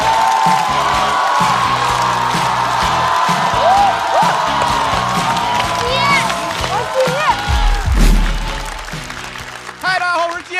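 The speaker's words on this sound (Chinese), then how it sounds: "掌声欢迎季烨。" A stand-up comedy audience applauds and cheers to welcome a comedian, a loud, dense wash of clapping with scattered whoops and whistles that holds steady throughout.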